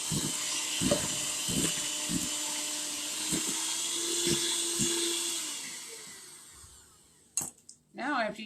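An electric mixer whipping cake batter for a fresh apple pound cake, a whining motor hum with rhythmic knocks of the beaters against the bowl. The motor winds down near the end, followed by brief speech-like sounds.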